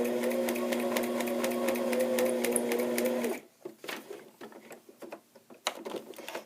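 A sewing machine stitches in a steady, close, rapid run for about three seconds, then stops, followed by quieter handling clicks and rustles.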